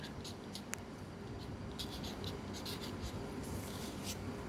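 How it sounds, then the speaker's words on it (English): Pen or pencil writing on paper during a classroom geometry activity, producing soft scratchy strokes in short bursts over a quiet room hum, close and fairly faint. "We will write here diameter"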